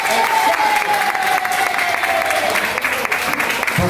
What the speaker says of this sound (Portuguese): Vamos dar aplauso de amor